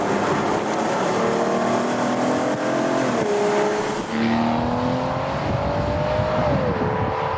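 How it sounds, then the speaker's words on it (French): A V12 car engine runs steadily and loud, its tones rising and falling as it revs, with a brief dip around the midpoint before the pitch climbs again. "T'entends ce bruit, ce moteur, ce V12?"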